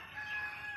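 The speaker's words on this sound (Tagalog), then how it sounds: "Katapos lang po nila kumain ng mga itik at manok. Sama-sama po sila." A rooster crows among free-range ducks and chickens on a farm, one short, fairly faint call heard alone at a moderate distance.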